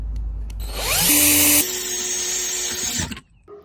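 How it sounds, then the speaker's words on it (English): A power drill bores a hole through a plastic bucket while making a self-watering container, the motor whining loudly for about two seconds, then dropping to a lower steady whir before stopping. "Drill a hole right below the height of the beam."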